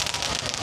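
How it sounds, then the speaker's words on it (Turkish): Fireworks going off in India give a dense, continuous crackling hiss with no distinct separate bangs, fairly loud and steady throughout the short stretch. "Havai fişek de atıyorlar."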